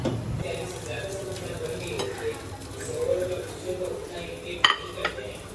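Shrimp frying in a pan with a few coriander leaves added, a soft steady sizzle with stirring scrapes and one sharp metallic clink near the end.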